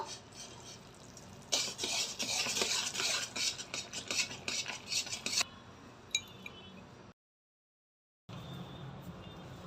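A spoon stirs flour into melted jaggery in a pan for fenugreek and edible-gum ladoo, giving a dense scraping and rustling for several seconds before it stops, then a short break and quieter scraping.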